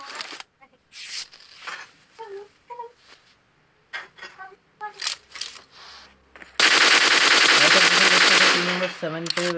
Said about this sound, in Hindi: सेवन पे फायरिंग हुई थी टीम नंबर 1 के द्वारा पर वो मिस हो गए।